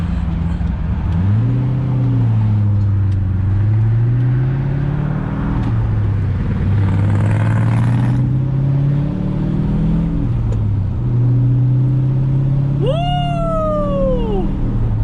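A BMW E46 drives along with its engine droning near and loud, pitch rising and falling through gear changes, and a sharp high rising whine near the end.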